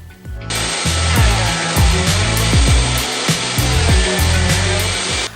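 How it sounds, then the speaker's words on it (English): A wooden end grain cutting board feeds through a power planer, producing a loud, sustained high-pitched whine and cutting roar with irregular knocks and thumps as the board passes the blades. "now I'm just gonna run it through the planer"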